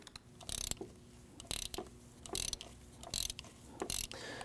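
Ratchet clicking while loosening a tight spark plug on a 3.5L V6 Ford Taurus, heard as five short bursts of clicks at a steady pace, each separated by a brief pause, close and fairly quiet.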